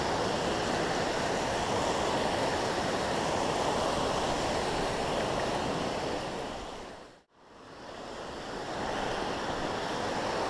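Creek water rushing steadily and strongly over rocks in Chalk Creek near Mt Princeton, a loud continuous broadband roar with a brief dip partway through, no talking.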